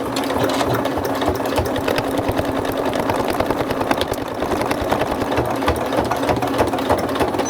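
A sewing machine runs steadily, stitching the seams of a fabric teddy bear toy with a fast, even mechanical whir close by.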